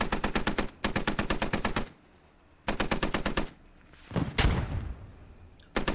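Rapid machine gun fire in the Squad Ops military shooter, long sustained bursts with short pauses between them, followed by a heavy thudding impact and a brief burst at the end.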